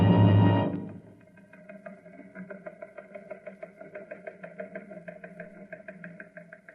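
A recon car engine used as a radio drama sound effect: a loud rough burst at the start, then a steady, rhythmic mechanical chugging that runs on alone at moderate level.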